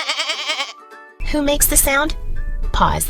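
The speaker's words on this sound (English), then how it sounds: "Yes, it's a goat." A goat gives one clear, wavering bleat lasting under a second, loud and close, followed by a person speaking.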